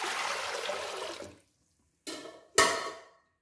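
Cold water poured from a vessel over boiled rice for Pakistani sweet zarda, a broad splashing gush for over a second, then two short sharp pours after a pause, close and fairly loud.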